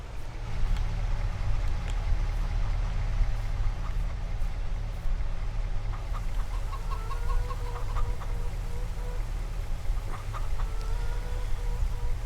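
Chickens cluck in Farming Simulator 22 on a Western Wilds map farm, with short repeated calls that come and go over a steady low game hum and droning machinery.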